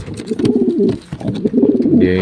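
Racing pigeons coo continuously up close in a loft, a low throaty warbling that rises and falls in overlapping calls.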